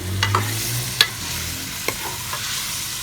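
Capsicum stir-fried in a thick masala with potatoes gives a close, steady sizzle broken by a few sharp scrapes and knocks of a spoon against the pan, with no voices.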